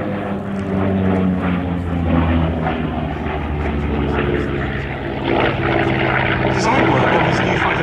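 A successor to the F6F Hellcat, a US Navy propeller fighter plane, drones steadily overhead at an airshow, a sustained engine roar that rises slightly toward the end, with a commentator talking over it.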